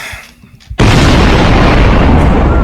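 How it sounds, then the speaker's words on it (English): A big explosion sound effect bursts in suddenly after a quiet moment, loud and close, then holds as a sustained roaring rumble to the end. "Is that a nuclear explosion or like a thunderclap?"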